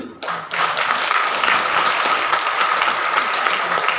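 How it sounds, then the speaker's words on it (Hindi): An audience at a BJP district gathering breaks into loud, dense applause for themselves, the clapping swelling in after a brief quiet start and holding as a sustained roar of many hands close by. "पहले तो एक बार जोरदार ताली आप अपने लिए बजाइए"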